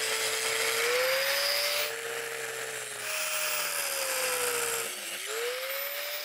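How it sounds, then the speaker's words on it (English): An angle grinder with a masonry bit cuts mortar out from between bricks. It gives a loud, continuous whine whose pitch sags and recovers several times as the bit bites and eases off, with no talking. "take your grinder with your masonry bit, remove all of the mortar first"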